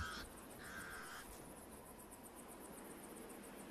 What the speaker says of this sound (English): The pied crows sound the alarm again.